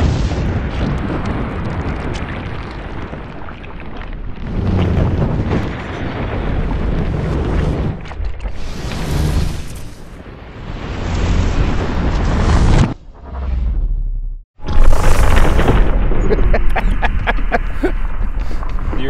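Dynamite detonates inside a ballistic head, loud booming blasts and rushing bursts that cut out abruptly before another sharp explosion, with no talk over them.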